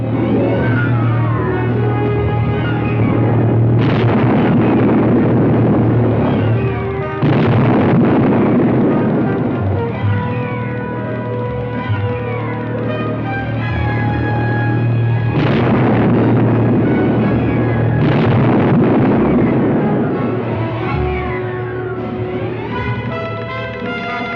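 Bombs explode across a city in the 1966 spy film Triple Cross, with several heavy booming blasts and rumbles spread over a sustained musical score.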